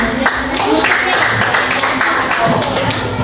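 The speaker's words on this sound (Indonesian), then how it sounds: "Oke, beri tepuk tangan." Students in a classroom clap their hands in a loud, close, rhythmic round of applause mixed with overlapping voices.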